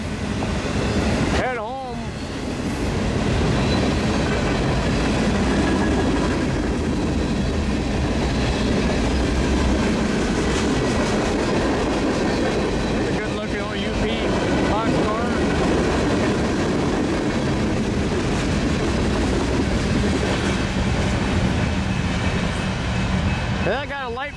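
A long mixed freight train rumbles past up close on track one in light rain, with steady wheel clatter and rail noise for the full duration, a loud continuous roar with occasional squeal.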